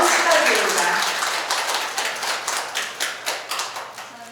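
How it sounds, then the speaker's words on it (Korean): Applause from an audience at an inaugural ceremony of a Korean literary association as a chairwoman receives an award: sustained clapping that begins dense and slowly thins into scattered claps. "감사표를 수상하신 정송희 회장님께 큰 박수 부탁드립니다"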